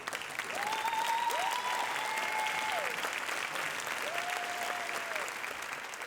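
Dense, steady applause from a large festival crowd cheering dancers, with a few faint whistles rising above the sustained clapping for the whole stretch.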